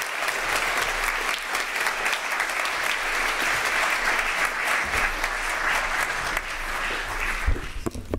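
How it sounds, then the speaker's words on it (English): A large audience gives strong, sustained applause as David Malpass walks to the stage at an event on innovations for rights and justice. The clapping stays loud and even before easing slightly at the end. "So I hope you'd give him a big round of applause as he comes to the stage to make introductory remarks."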